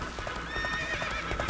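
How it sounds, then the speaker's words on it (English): A great silver horse's hooves clip-clop in a quick, even rhythm, close and clear, with a neigh over the steps in a short burst. "the thundering hoofbeats of the great silver horse"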